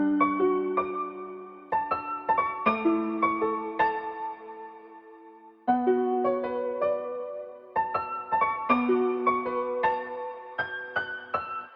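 Pitched-down piano from a Nexus preset, colored with RC20 lo-fi effects, plays a sustained chord-and-melody phrase of layered notes, loud and close, pausing briefly midway before resuming; no voices.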